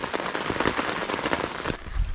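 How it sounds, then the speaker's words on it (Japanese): Heavy rain falls on a tent at a campsite at night, a dense steady patter with sharp drops hitting the fabric, loud and continuous. "雨いっぱい降って、"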